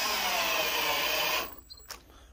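A drill drives 1-inch Kreg-style pocket hole screws into soft wood, a steady whirring buzz close by that stops abruptly, followed by a couple of faint clicks and handling noises.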